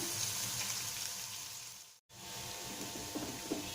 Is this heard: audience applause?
no